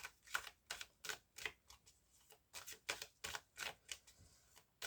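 Oracle cards are shuffled in quick bursts, a run of short crisp riffling slaps in an uneven rhythm, close and fairly quiet with no talking.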